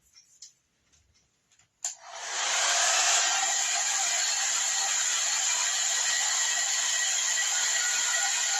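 A dryer switches on after a couple of faint handling clicks and then blows with a loud, steady, close whoosh, drying craft paint on a silicone mat.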